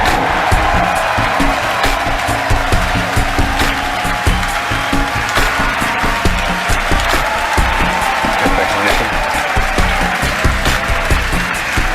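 A crowd cheers and applauds loudly at a Falcon Heavy rocket launch, with dense, sustained clapping and whoops filling the whole stretch without a break.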